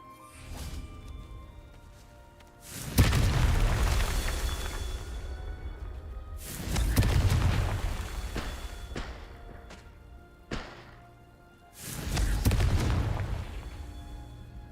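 Confringo fire spells explode in the Hogwarts Legacy video game: three heavy booming blasts spaced a few seconds apart, each a loud rumbling burst that swells and slowly fades, with a couple of sharp smaller cracks between them.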